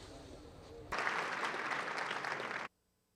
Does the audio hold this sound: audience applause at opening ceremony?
yes